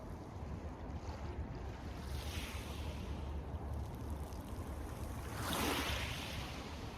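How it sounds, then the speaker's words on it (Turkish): Steady low wash of sea waves at a beach with wind rumble, a soft surge of surf building near the end; no voices. "şu anda Denizin sesi geliyor"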